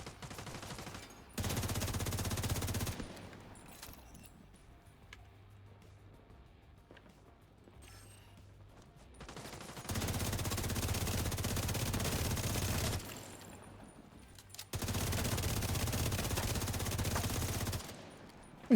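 Video game enemy gunfire bursts out in three long, loud sustained volleys of rapid automatic shots, separated by quieter stretches with scattered distant pops.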